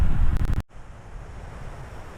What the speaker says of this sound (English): It's getting a little windy out there, getting a little chilly